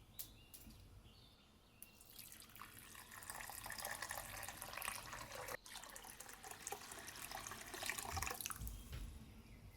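Pearl barley is washed under running water, a faint continuous stream of splashing and trickling that swells slightly toward the end, with no talking.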